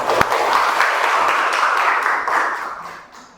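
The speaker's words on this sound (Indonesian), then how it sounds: "Tepuk tangan" A group of teacher trainees in a classroom session claps together, a fairly close, lively burst of applause that holds steady and then fades away near the end.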